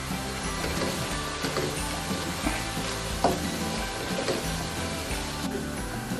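Onion, coconut, garlic and green chili frying in a pan for a vegan soybean stir fry, a steady soft sizzle with scattered scraping and stirring clicks, moderately close and without speech.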